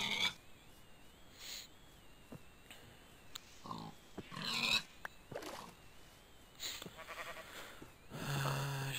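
Sheep bleating in Minecraft, several bleats scattered over ambient game sounds with occasional clicks, moderately loud and without speech.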